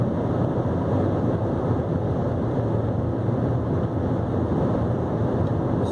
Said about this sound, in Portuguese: Ruído de vento considerável, bastante considerável a partir de uma certa velocidade.